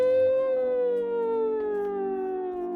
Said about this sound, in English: I guess that's more like a bomb siren,